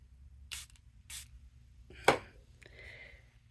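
A spray bottle spritzes water onto painted blackberry leaves in several short bursts, a couple of quick puffs followed by a sharper spray and a lighter hiss, close and otherwise quiet.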